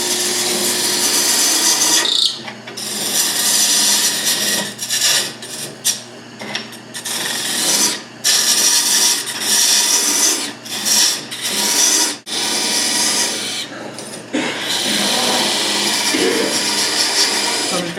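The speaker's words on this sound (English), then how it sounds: "You don't have to have your lathe going very fast." A wood lathe spins while a tool cuts the wood for a document chest, with a loud, close, rasping scrape that surges and breaks off in repeated passes over about eighteen seconds.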